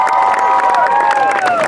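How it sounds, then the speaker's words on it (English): Crowd at a pumpkin patch horse show cheering and clapping for a performer, a steady loud wash of voices with children shouting throughout, no gaps. "Let's have another round of applause for Cowgirl Caitlin."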